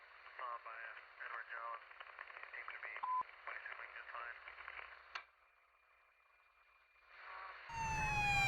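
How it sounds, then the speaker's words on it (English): Police car siren in the GTA 5 video game, a rising wail that sweeps in near and loud at the end, following radio-style voice chatter over a steady background hum. "turn my siren back on"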